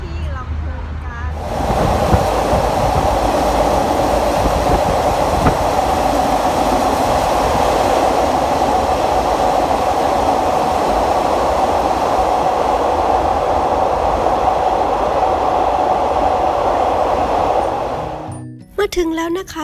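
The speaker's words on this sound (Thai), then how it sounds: "หลังจากเรานั่งรถไฟมาทั้งคืนเลยนะคะ" An overnight passenger train to Lamphun, Thailand, rolls along with a steady, loud rumble heard from inside the carriage, easing off near the end.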